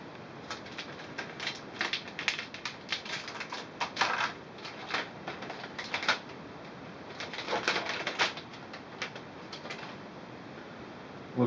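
Protective plastic film being peeled off the back of an Acer Iconia A100 tablet, giving a run of quiet crackling, ticking bursts at close range that cluster in uneven spurts with no voices.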